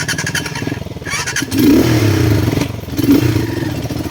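A motorcycle engine runs continuously up close, recorded from a phone mounted on the moving bike, a loud throaty drone that swells twice as if revving, with rattling clatter over it.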